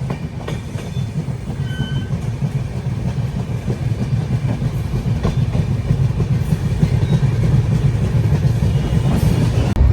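Train running on rails between Kacheguda and Bhagat Ki Kothi: a steady, loud rumble with continuous clickety-clack of wheels that builds slightly over time, with no voices.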